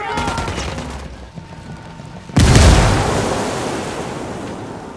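A frag grenade blasts in Ghost Recon Wildlands, one loud sharp boom partway through with a long decaying rumble after it, preceded by background gunfire.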